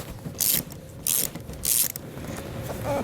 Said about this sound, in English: we can remove this nut using a 13mm socket